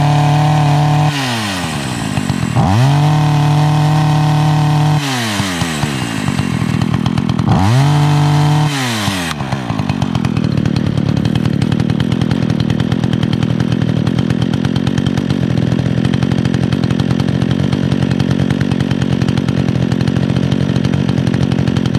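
Chainsaw with a modified exhaust, running rich in cold weather, revs loudly in repeated bursts for about nine seconds, then settles into a steady, sputtering idle up close with no talk.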